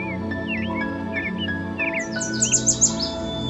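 Birds chirping and trilling in quiet countryside around a treehouse lodge with an outdoor hot bath, with several twittering calls over a low steady hum, brightening into quick high chirps near the end.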